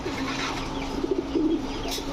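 A breeding pair of Putul Gorra pigeons coos softly in a few low, close bursts over a steady background hum.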